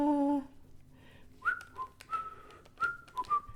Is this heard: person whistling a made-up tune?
yes